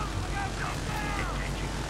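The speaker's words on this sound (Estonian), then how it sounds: "Kopter, meie oma." A friendly helicopter flies in Battlefield 3 co-op, its steady rotor and engine drone filling the scene at moderate loudness while a voice talks over it.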